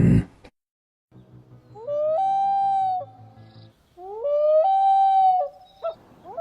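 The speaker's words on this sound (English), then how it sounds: "Loon." A common loon gives two long, rising wailing calls in the open with no one talking. Each call holds a steady note for about a second before it fades. Faint low rumbling sits underneath both calls.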